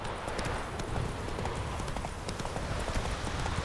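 Roach's hooves trot steadily in The Witcher 3, a fast, even clip-clop close and loud against a dense outdoor wash, with no voices.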